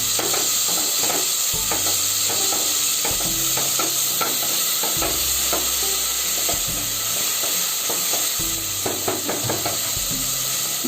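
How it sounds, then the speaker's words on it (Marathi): Small onions frying in hot oil in a pan for tempering, with a constant loud sizzle and frequent stirring scrapes throughout, close up and without talk. "तेल चांगलं तापलं, आपण याच्यामध्ये कांदा घालतो."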